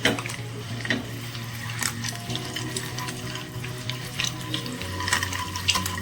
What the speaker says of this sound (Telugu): ఎగ్గు మొత్తం కూడా ఫ్రై చేసుకోండి